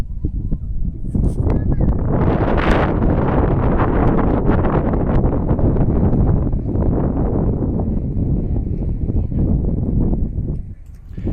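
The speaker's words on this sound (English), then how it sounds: "Did I mention it was windy?" Heavy wind buffets the microphone in a loud, continuous roar with rumbling gusts, nearly drowning out a voice speaking underneath.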